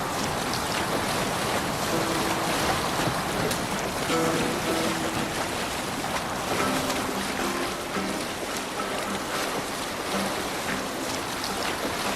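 Viking longship under sail on open sea in Assassin's Creed Valhalla, with constant rushing waves, wind buffeting and creaking hull noise, plus faint chanting or singing of the crew in the background.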